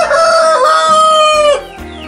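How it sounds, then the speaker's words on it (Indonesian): A rooster inside a chicken coop lets out one loud, close crow, a long rising-then-falling call that ends abruptly, followed by a brief quieter rustle. "Ini nampaknya ayamnya jago"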